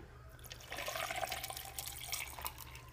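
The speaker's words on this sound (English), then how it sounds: "Then I take about 8 ounces of water." Water poured over a blender jar packed almost full of ice in a Ninja blender, a steady close trickling and splashing pour lasting a couple of seconds, with no talking.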